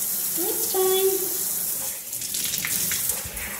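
Tap water runs steadily into a tub while soap is rinsed off a dog during a bath, a close, constant gushing hiss with a brief faint voice-like tone near the start.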